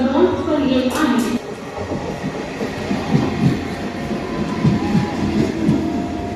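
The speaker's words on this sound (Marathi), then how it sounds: "मुंबई छत्रपती शिवाजी महाराज टर्मिनसला जाणारी ही लोकल आपल्याला प्लॅटफॉर्म क्रमांक 2 वर येत आहे." A Mumbai local train bound for Chhatrapati Shivaji Maharaj Terminus pulls into platform 2, its loud rumbling wheels and carriages rolling close by.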